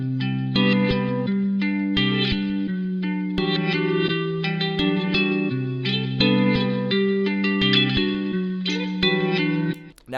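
A hyperpop guitar loop plays continuously and loudly, its chopped phrases broken up by short reversed sample chunks that swell and cut off abruptly, heavily effected with chorus and reverb, with no voices.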